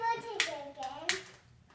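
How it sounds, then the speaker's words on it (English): At a birthday party, children clap their hands in two sharp, close claps about a second apart, with a voice sounding between them. "Clap again."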